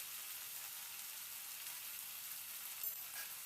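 Soft, steady hiss of potato and onion stalks frying in a pan, with a faint stirring scrape near the end; quiet and even throughout.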